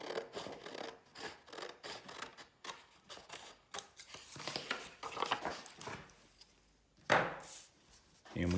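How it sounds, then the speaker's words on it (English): Repeated snipping and rustling of scissors cutting along a marked line through paper, close up, in an uneven rhythm with brief pauses. "follow that line with your scissors."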